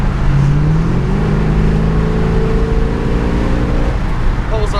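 A Chevrolet El Camino with upgraded carburetors and fuel system on a test drive: a steady, loud engine drone with rising and falling tones as it pulls, heard from inside, continuous for several seconds.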